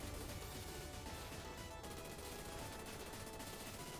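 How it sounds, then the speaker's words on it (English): Level 2 machine gun in an arcade shooter game firing nonstop, a dense, loud, even rattle of rapid shots over busy game music and effects throughout. "I have a level 2 machine gun"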